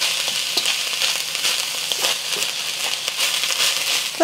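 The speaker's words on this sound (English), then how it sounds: "We just want to dry fry this so that we can get more of the moisture released and" Ingredients dry-fry in a hot wok with a close, continuous crackling sizzle, broken by light scraping and stirring clicks.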